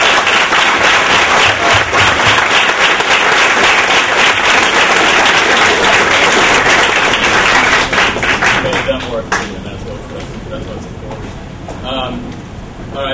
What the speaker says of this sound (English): And one more round of applause for...